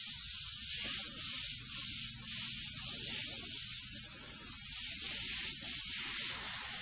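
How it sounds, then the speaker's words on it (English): An airbrush spraying paint onto a monotone portrait, a continuous bright airy hiss with quick pulsing swells from fast strokes, close and steady with no talking. "if you notice how quick I'm moving with the airbrush, I'm just doing these faster strokes"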